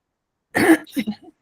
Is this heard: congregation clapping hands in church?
no